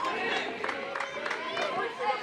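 Crowd of fans at a Little League World Series regional baseball game between New Albany, Indiana and Lexington, Kentucky, a steady murmur of chatter and scattered shouts from the stands, with a commentator talking over it.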